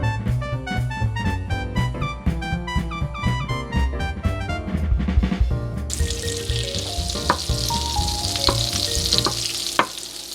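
Half a stick of butter sizzles in a pan, a dense, close crackle that swells louder and brighter partway through and continues steadily without any talking; melodic music plays over the first half.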